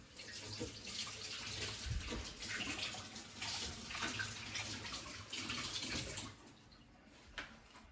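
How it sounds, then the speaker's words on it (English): Hands washed under a running kitchen tap, a steady splashing rush of water with shifting swishes as hands move through the stream, close and fairly loud, then the flow stops near the end. "Let me just wash my hands."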